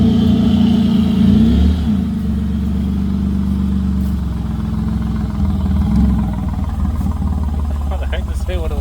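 A V6 Commodore drag car fitted with nitrous runs close by in a loud, steady, rumbling idle that wavers slightly, with people talking over it.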